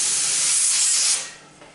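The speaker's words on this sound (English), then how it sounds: "The steam is still coming out nice and strong." Strong steam hissing from the vent of a pressure canner while green beans are processed, a loud broadband rush that holds steady then tapers off, with no talking.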